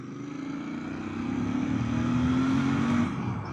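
A 2025 Royal Enfield Bear 650 motorcycle accelerating hard to pass, its engine note rising and swelling steadily in pitch and loudness from the rider's position, with rushing wind beneath.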